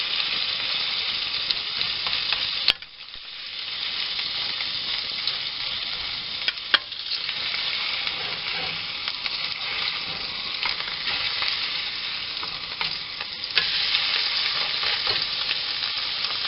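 Hamburger patties frying in a cooking video game give a steady, dense sizzle that fills the whole stretch, with a few small clicks and pops.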